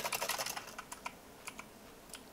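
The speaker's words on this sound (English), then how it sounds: "I got a clicky keyboard for a reason." A clicky computer keyboard clacks under quick typing, starting with a fast burst of sharp, crisp keystrokes and then thinning to scattered, isolated presses, all faint and close.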